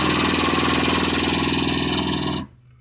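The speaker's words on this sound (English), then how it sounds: "I'm going to run the pump until fluid starts coming out" A hydraulic pump runs steadily to fill the hose of a bead breaker, a loud, even pulsing drone close by that cuts off abruptly near the end.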